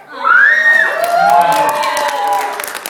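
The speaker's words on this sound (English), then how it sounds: "Did you just scream?" A loud, sustained scream rises from the audience at an anime convention voice-actor Q&A, ringing out over a cheering, noisy crowd for about three seconds.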